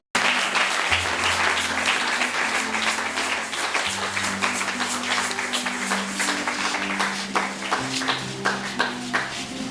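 A church congregation applauding during a worship service, steady loud clapping sustained throughout with sustained musical tones underneath.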